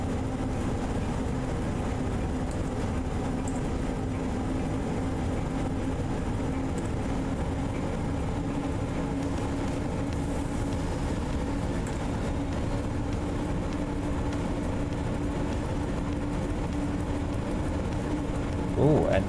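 A heavy cargo locomotive hauling 3,600 tons in the MaSzyna train simulator drones with a low, steady engine rumble and faint rail noise, continuous and moderately quiet beneath a person talking.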